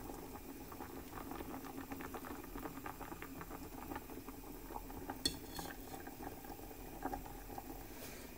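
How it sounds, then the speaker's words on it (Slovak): Potatoes boiling in a pot, with a quiet, steady bubbling and gentle simmer throughout, plus a few soft clinks of the pot or utensils near the end. "Zemiaky pri varení majme stále pod dozorom, aby nám nevykypeli."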